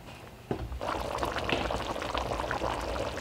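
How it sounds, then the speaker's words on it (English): Thai red curry simmering in a pot, a steady close bubbling and liquid crackle after a brief knock, continuous and moderately loud with no talking. "Let that simmer for about 2 minutes"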